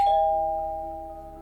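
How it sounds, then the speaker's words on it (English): A doorbell gives a single clear electronic chime that rings out and slowly decays, close and alone with no talking. "Ding dong, a package."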